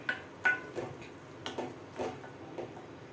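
A spoon scrapes and taps against a pan while mushrooms are stirred with salt, a series of faint, irregular clinks and scuffs spaced a fraction of a second apart.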